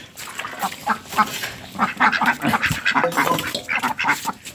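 A flock of ducks quacking repeatedly nearby at a pond bank, overlapping nasal calls in an irregular, busy chorus.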